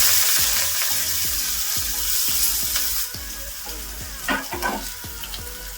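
Hot oil sizzles and crackles steadily as mustard and cumin seeds pop, with a scraping stir partway through and no voices.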